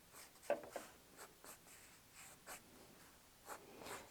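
Pencil drawing lines on paper while marking palm-leaf shapes for a quilt patchwork block, soft scratchy strokes in short bursts, close and quiet, no speech.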